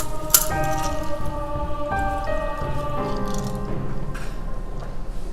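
A Yuzu Lemon Drop cocktail made with Marie Brizard is poured into a glass. Close liquid trickling and dripping sounds carry rising tonal ringing as the glass fills, with a sharp clink near the start.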